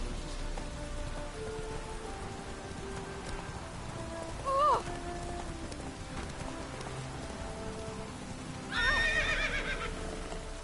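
A horse whinnies twice in The Witcher 3: Wild Hunt, on a beach, the second call louder and higher, over a steady wash of rain and soft hoofbeats.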